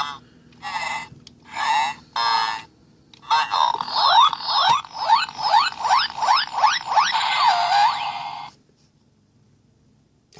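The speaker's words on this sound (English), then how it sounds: "So let's trigger his morphin sound." A Power Rangers Digimorpher toy plays its electronic morphin sound effect: a few short beeps, then a run of rapid warbling, sweeping synthetic chirps that ends abruptly, moderately loud and close.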